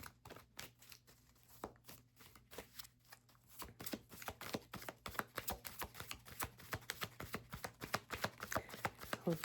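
Playing cards shuffled by hand, sometimes sticking together, in a run of crisp riffling bursts that start sparse and grow into a steady, dense patter, close and fairly quiet with a faint hum underneath.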